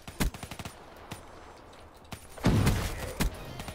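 Burst fire from a gun in Black Ops 3, short clusters of sharp rapid shots separated by pauses, with one heavier, louder burst near the middle, close and punchy.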